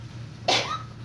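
A single short, sharp sneeze bursts out once in a quiet classroom, loud against faint background hum.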